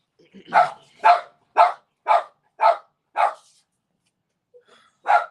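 A dog barks in an evenly spaced series of six sharp, fairly close barks, then pauses and gives one more bark.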